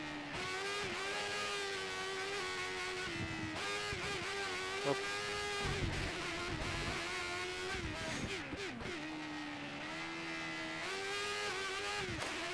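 High-pitched F1 car engine in the F1 2014 racing game, revving continuously with gear shifts and pitch drops and rises, loud and close, with a brief spoken word.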